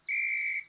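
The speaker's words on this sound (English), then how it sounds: "Huh, it's my whistle." A toy whistle blown once in a cartoon, a single steady high-pitched tone lasting about half a second, clear and close with no talking over it.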